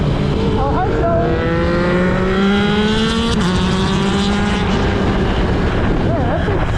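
A new motorcycle's engine runs and revs close by, with bright climbing tones sweeping up through the gears and a loud, rough exhaust bark throughout.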